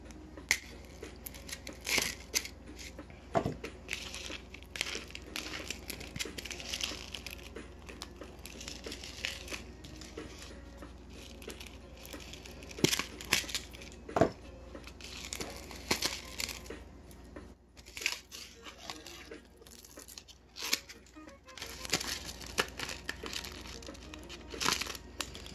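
Jewelry is worked loose from Claire's packaging held with tape, giving quiet crinkling, crackling and small snaps of tape and plastic, close and fairly soft, with no voices.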